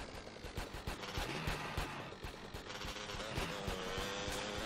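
Rapid gunfire from GTA San Andreas in Las Venturas, sharp repeated shots crackling steadily throughout over a dense backdrop of game noise.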